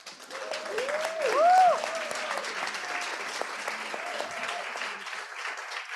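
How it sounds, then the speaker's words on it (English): Audience applause at a youth health and well-being event, a steady crowd clapping that swells briefly to a peak before settling, with faint voices and tonal sounds underneath. "So a round of applause for every young people or every young person in the house today."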